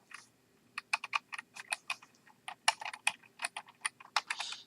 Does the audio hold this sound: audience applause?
no